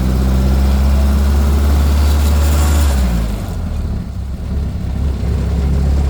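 A 1928 Model A race car with a 4-port overhead valve head conversion and 1939 three-speed transmission drives on a closed circuit, its engine droning loud and low, then easing off and picking back up.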